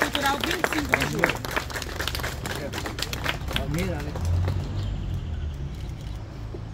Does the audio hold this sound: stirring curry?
no